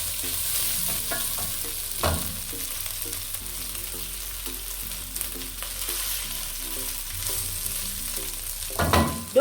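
Rice frying for fried rice while it is turned in the pan, a continuous soft sizzle with repeated scraping stirs and a louder clatter near the end.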